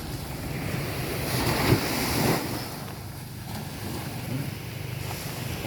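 Big waves roll and break on the sea off Zambales during bad weather, a steady, loud roar of surf mixed with gusting wind buffeting the microphone, with no voices.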